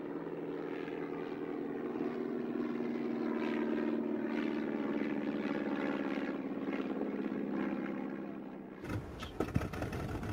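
A WWI Fokker triplane's propeller engine drones steadily as the aircraft flies, a sustained buzzing roar that swells slightly before cutting off abruptly near the end.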